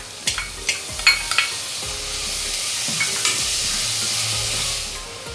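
Tomatoes drop into onions and coriander frying in a pan for an egg masala, landing with a few close thumps before a loud, steady sizzle takes over.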